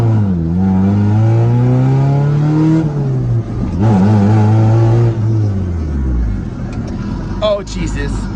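An Acura Integra LS revs hard and accelerates with rising and falling engine pitch, ending in a brief accidental burnout with tire squeal; people talk inside the car over the engine.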